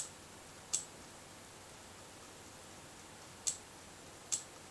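Three sharp, crisp gaming-mouse button clicks, spaced unevenly, close and clear against a quiet hiss.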